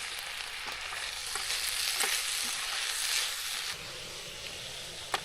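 Brussels sprouts sizzle in a pan over a camp stove at a campsite, giving a close, steady frying hiss with light crackles that drops and thins near the end, with no talking.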